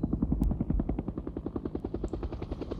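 A helicopter sound effect, processed in Nuendo to simulate distance, gives a steady, rapid rotor chop that beats evenly throughout at moderate loudness.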